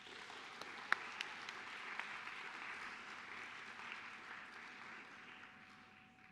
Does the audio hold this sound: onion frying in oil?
no